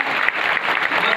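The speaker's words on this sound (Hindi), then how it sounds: "बहुत बहुत ढेर सारी जोरदार ताली दीजिए इनके लिए।" A seated audience applauds students at a school's annual exam-results prize ceremony, a dense, steady wash of many hands clapping, loud and close, with no talk over it.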